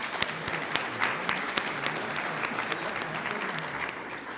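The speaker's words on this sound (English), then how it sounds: "Yes, that's a round of applause" Conference audience applauding at a national healthcare conference, a steady wash of many hands clapping with sharper individual claps standing out.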